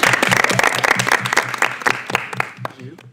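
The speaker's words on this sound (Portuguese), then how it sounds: "Uma salva de palmas para eles." Enthusiastic applause from a school audience honoring tenth-grade debate winners, dense rapid clapping close by that fades out toward the end, with a voice briefly audible beneath it.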